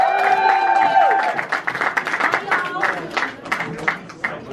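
Event audience applauding an honoree at a YouTube Black celebration, with uneven clapping and some cheering under a tonal musical sting at the start, then looser scattered claps with crowd chatter.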